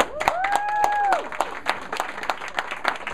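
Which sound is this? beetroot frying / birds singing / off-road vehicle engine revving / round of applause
round of applause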